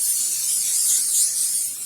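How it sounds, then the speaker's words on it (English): An aerosol spray can hisses over chalk pastel artwork in one steady, close, airy spray lasting about two seconds, fading slightly at the end. "So this is when you go spray."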